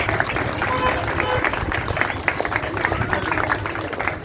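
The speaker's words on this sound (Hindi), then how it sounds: "ताली बजाते रहे।" An audience at an Arya Veer Dal yoga demonstration in Gandhidham claps steadily throughout, a dense and continuous patter with voices talking over it.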